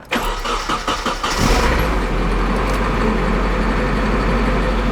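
A Nissan 240SX engine cranks for over a second, then catches and settles into a loud, steady idle.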